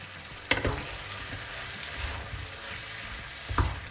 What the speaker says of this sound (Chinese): 咱们将咖喱粉呢和黄油不断的这么翻炒